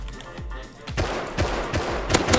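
Rapid automatic gunfire in the Rust video game, a dense burst of repeated close shots over a low steady background rumble.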